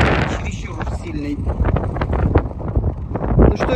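Strong wind by a lake buffets the microphone in heavy gusting rumbles throughout, with someone talking over it.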